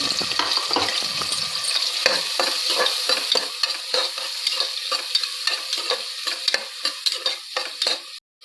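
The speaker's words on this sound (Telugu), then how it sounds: "ఉల్లిపాయ కొంచెం ఫ్రై అయిపోయింది" Onions and finely chopped green chilies fry in hot oil for mutton paya, a loud continuous sizzle broken by rapid, repeated spatula scrapes and stirs that thin out toward the end; no talking.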